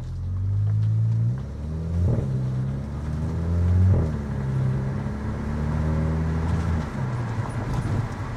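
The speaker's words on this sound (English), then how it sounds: "you are going to get a lot more sound coming from the exhaust system" Exhaust note of a VW Eos 2.0 TSI heard from inside while driving with the windows down, a steady rumble rising and falling through several gear changes, moderately loud against road noise.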